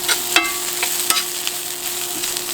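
Onions frying in a pan as they pick up color, a steady soft sizzle with scattered stirring clicks and scrapes, close and alone with no talk.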